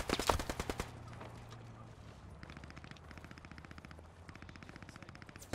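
Gunfire from the woods during a Post Scriptum battle: a fast, loud burst of automatic shots up front, then quieter, steady rattling fire continuing in the distance.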